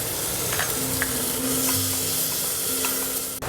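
Ginger garlic paste sautés with softened tomatoes in a pan, giving a loud, steady sizzle and crackle with scraping stir strokes close up throughout.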